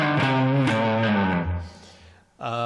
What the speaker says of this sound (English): the Timmy has its own kind of distortion sound